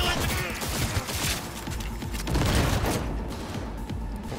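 Heavy gunfire in a Cyberpunk 2077 firefight: dense, overlapping bursts of shots and impacts pound on without letup, loud and close, with a continuous low rumble beneath.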